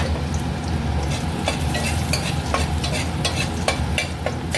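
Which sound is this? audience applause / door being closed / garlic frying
garlic frying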